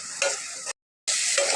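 Spices with turmeric powder and salt sizzle in a frying pan as they are stirred, close and steady, broken by one short moment of silence.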